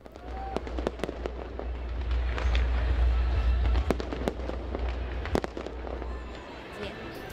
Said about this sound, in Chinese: 大家终于迎来了期待已久的烟花表演